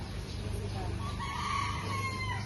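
Chickens on a broiler farm, a dense continuous clucking and murmuring from many birds in a shed, steady and fairly loud, with a faint crowing-like call drawn out in the middle.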